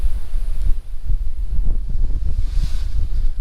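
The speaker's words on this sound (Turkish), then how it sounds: "Ama aşırı rüzgar var şu anda." Strong wind roars steadily into the microphone, a dense low rumble with gusty swells throughout and no voices.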